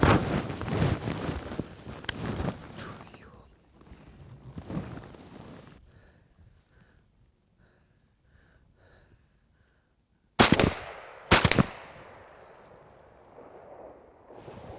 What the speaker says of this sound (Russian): После выстрела Анатолия 2 утки отлетели всего-то ничего и снова сели